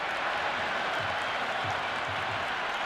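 A stadium crowd in Cricket 26 applauds and cheers after a six during an India vs Pakistan T20 match, a steady, dense wash of clapping and crowd noise.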